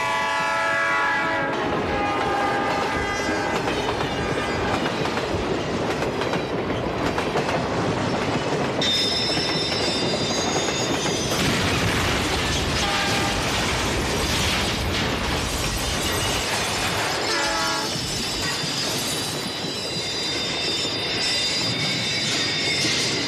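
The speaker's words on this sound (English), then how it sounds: "I also did hear the sound of a train, and I did hear him blow his whistle" A train rumbles past loudly with rattling wheels while its horn blows several long blasts, the roar filling the whole stretch.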